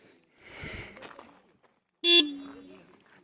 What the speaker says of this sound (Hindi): हॉर्न भी एक बार मैं आपको सुना देता हूँ।